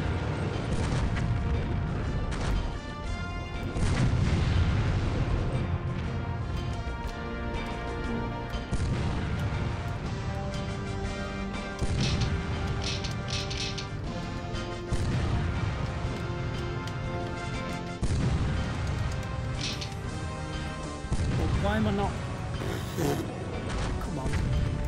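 Gunfire and crashing impacts in an N64 video game, loud and continuous with repeated bursts and mechanical clatter throughout, layered over a dense game soundtrack.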